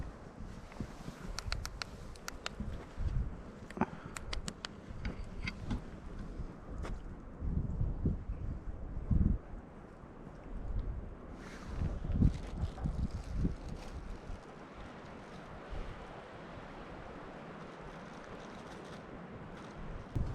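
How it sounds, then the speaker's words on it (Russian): Strong wind gusting around a tent in a winter forest, buffeting the fabric in uneven bursts with flapping and low rumbling, then settling into a steadier whoosh. "Ветер вообще сильный."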